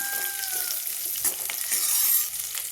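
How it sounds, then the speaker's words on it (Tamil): Garlic and onion sauté in hot oil with pepper, dried red chillies and curry leaves for a drumstick-leaf thuvayal, giving a loud, dense, steady sizzle right up close, with no voices. "பூண்டு வெங்காயம் எல்லாம் போட்டு நல்லா வதங்கட்டும்"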